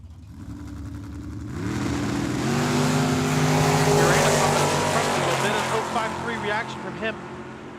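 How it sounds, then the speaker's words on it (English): Drag racing at Tucson Dragway during the Cactus Clash, with dragsters roaring loudly down the strip as engine noise builds and sustains for several seconds, a commentator's voice running over it. "Manuel Urena in the left lane, Ken Rader, that dragster in the right."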